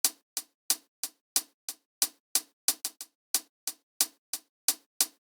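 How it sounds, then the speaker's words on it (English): Crisp, short hi-hat ticks play alone in a slightly uneven, loose rhythm, about three per second with a few quicker doubled hits. "Then there's the hi-hat, which I've also tried to make sound like it's organic and alive"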